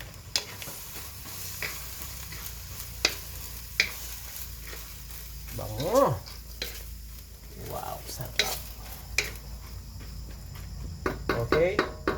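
Mung beans go into a pan of frying shrimp and get stirred, with a soft sizzle underneath, scattered scraping and clinking of the utensil, and a few quiet words spoken.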